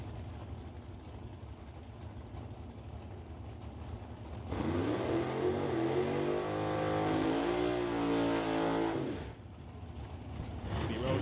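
A Roadster drag racing car sits idling at the start line of a drag racing event, then revs loud and steady for about five seconds before dropping back to a low rumble.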